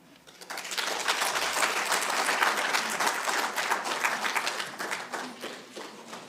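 Sustained applause from an audience at a press conference on a subsidised tertiary education funding model, honouring the minister. Many hands clap densely and steadily, swelling quickly and tapering slightly near the end.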